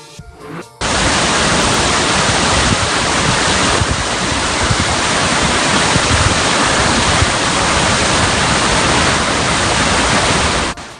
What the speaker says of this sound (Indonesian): Air terjun gedung di pencakar langit.